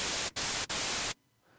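Bright synthesized white noise made in Logic Pro X plays loud in three bursts split by two short gaps, then cuts off abruptly and leaves a faint low hiss.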